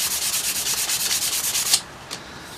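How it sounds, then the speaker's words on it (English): Sandpaper rubbing back and forth along an arrow shaft in quick, even strokes to clean it before wraps go on, close and moderately loud, then stopping with one faint final scrape. "Sandpaper a little bit more. Get the rest of that off there."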